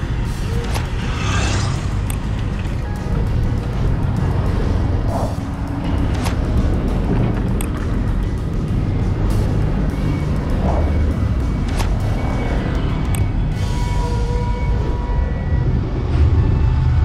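Traffic on a seaside avenue along the beaches of Santos produces a continuous broadband roar of passing cars, heard from inside a moving bus with steady engine rumble underneath.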